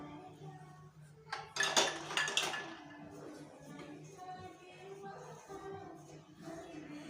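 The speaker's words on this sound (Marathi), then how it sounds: "आणि याच्यात आता मळून घेऊया आपण" Dough for bottle gourd and mint sev being kneaded by hand in a bowl, with a burst of bowl clatter and scraping early on, then softer, steady handling sounds close by.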